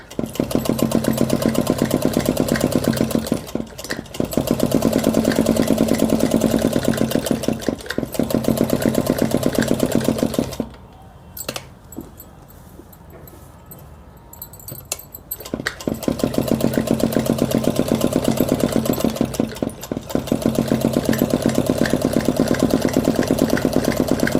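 A sewing machine stitches a ladies' suit in long continuous runs of rapid mechanical whirring, loud and close, broken by a quiet pause mid-way before stitching resumes.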